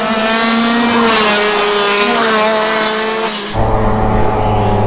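Racing karts on a track, a loud, close engine whine with strong steady harmonics that sweeps past, then cuts to a lower, rougher rumble as the next kart approaches.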